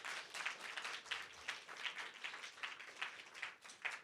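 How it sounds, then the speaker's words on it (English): A small audience gives a faint, distant round of applause for the finalists of a negotiation competition, uneven clapping that swells and dips in soft pulses. "Round of applause for our finalists before we get to feedback."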